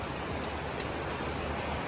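Steady rain pouring outdoors in the Basque Country, a dense even hiss of drops on surfaces with no pauses, close and fairly loud.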